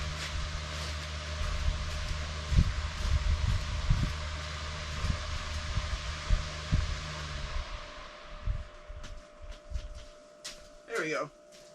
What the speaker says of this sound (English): let me go turn this fan off